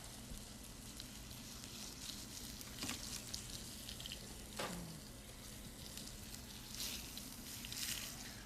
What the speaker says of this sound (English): So we sear it, we get a nice brown color on here.